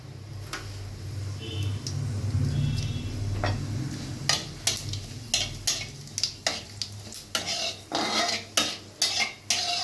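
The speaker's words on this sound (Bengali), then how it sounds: "কড়াইতে তেলটা আমার কিন্তু গরম হয়ে গেছে এবার আমি এর মধ্যে দিয়ে দেবো একটা তেজপাতা আর একটু জিরে ফোড়ন" Bay leaf and cumin seeds dropped into hot oil in a wok (kadai) for tempering: a low steady hiss and sizzle comes first, then a run of sharp, close metallic spoon clinks and scrapes against the pan, with no voices.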